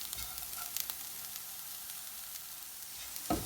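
Coconut slices and bitter gourd sauté in a pan for a bitter gourd curry, giving a steady soft sizzle throughout, broken by a couple of light stirring clicks and a final scrape, with no voices.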